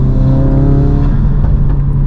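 Loud, close exhaust drone from a 2018 MK3 Ford Focus RS under acceleration, a steady rising engine note that holds for about two seconds with no talk over it.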